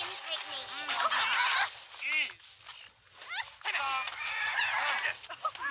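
Fowl-like clucking and squawking from South Park Phone Destroyer gameplay, a dense run of bird calls that fills most of the stretch with a short gap near the middle, heard alongside a speaking voice.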